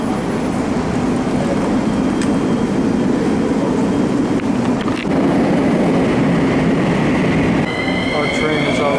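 A Bucharest metro train pulls in and moves off again, a loud steady rumble of wheels and motors with a brief squeal and rising whine near the end as it departs.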